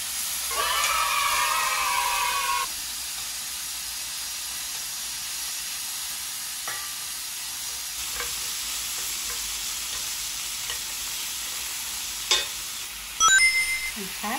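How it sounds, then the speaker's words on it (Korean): Beef brisket stir-frying in its own rendered fat without added oil, a loud hissing sizzle that drops to a quieter steady fry after a few seconds, with a few scraping stirs and clinks near the end and no talk. "고기는 그냥 볶네? 그거 기름 없이?"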